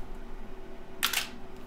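A single crisp camera shutter click fires once, close and clear, during tethered shooting on an Ubuntu Linux desk setup, set against a faint steady room hum.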